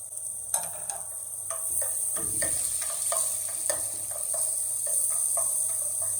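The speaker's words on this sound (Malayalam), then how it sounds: "ഇഞ്ചി, വെളുത്തുള്ളി, പച്ചമുളക് ക്രഷ് ചെയ്തതും സവാളയും ഇട്ട് കൊടുത്തിട്ട് ആവശ്യത്തിനുള്ള ഉപ്പും ചേർത്തിട്ട് നന്നായിട്ട് അങ്ങ് വഴറ്റിയെടുക്കുക" Crushed ginger, garlic and green chilli sautéing with onions and salt in a pan, a steady close sizzle with repeated scraping and stirring clicks from a spoon, no talking.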